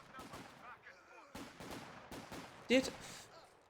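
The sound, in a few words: gunfire and grenades in a WWII strategy video game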